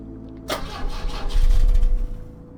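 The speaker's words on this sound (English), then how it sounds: "It's still not firing. Better check the engine again." A car engine in the pixel horror game The Drifter cranks loudly at close range, a sharp start click followed by rapid churning turnover that builds and then fades without catching, with no voices.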